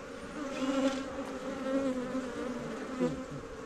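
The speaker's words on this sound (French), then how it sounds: "C'est vraiment plus gros, hein, un faux bourdon, vous avez vu." Honeybees buzz steadily inside a freshly opened hive at a teaching apiary, a larger drone among them, the dense swarm hum rising and falling close up with no voices.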